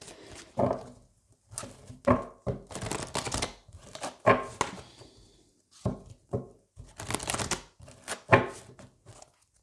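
Oracle cards being shuffled and drawn, heard as repeated close riffling and slapping bursts separated by short pauses.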